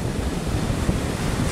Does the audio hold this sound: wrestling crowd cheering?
no